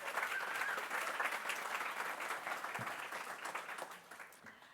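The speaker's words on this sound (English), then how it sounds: "Please give a round of applause to Joe and John" Audience at a panel event on health and plastics giving a round of applause to two guests, dense even clapping throughout, moderately distant, tapering off toward the end.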